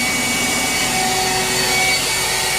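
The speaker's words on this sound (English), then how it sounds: "when you push up to spa, the blower turns on" A Jandy/Zodiac spa air blower runs with a steady, loud broadband whoosh and a faint whine, continuous for the whole stretch with no talking.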